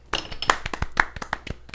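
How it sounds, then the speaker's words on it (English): A handful of people clap to celebrate someone being eleven days cigarette free: sparse, uneven hand claps that sound close and moderately loud, with no talking over them. "Can you guys give me a round of applause, please?"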